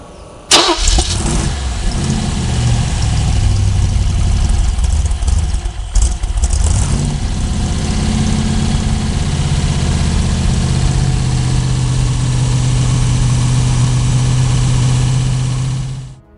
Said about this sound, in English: 283 fuel-injected engine.